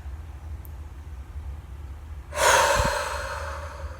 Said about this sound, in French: une dernière fois, j'inspire